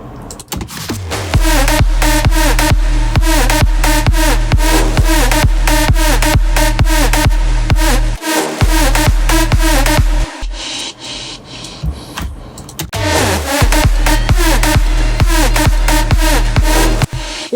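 A big room techno lead with EQ and stereo widening drives over a pounding four-on-the-floor kick, loud and dense, with a brief breakdown before the full mix returns.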